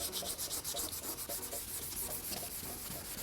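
Sandpaper rubs back and forth on a faded car headlight kept wet with water, making a quiet, quick, steady rasping rhythm close up, with no voices.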